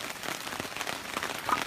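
Heavy rain drums steadily on a big tarp over a forest wildcamp, a dense, even patter of drops with no voices.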